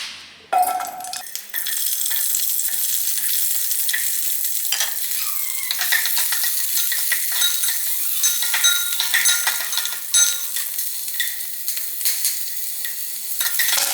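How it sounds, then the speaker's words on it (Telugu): Green chillies fry in a little hot oil, a loud, continuous crackling sizzle up close that starts abruptly after a brief quiet moment, with occasional light clinks and no speech. "ముందు కొద్దిగా ఒక చిన్న టీ స్పూన్తో నూనె పోసుకొని పచ్చిమిర్చిని ఫ్రై చేసుకుందాం"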